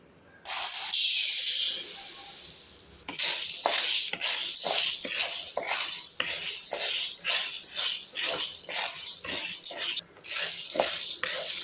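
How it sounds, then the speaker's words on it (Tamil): Chana dal roasting in hot oil in a pan while making sesame idli-dosa podi: a loud steady hiss and sizzle, broken by a regular run of sharp scraping pulses as the lentils are stirred, close up with no talk. "அடுத்து எண்ணெய் விட்டுருக்கேன் கடலைப்பருப்பை போட்டு வறுப்போம்"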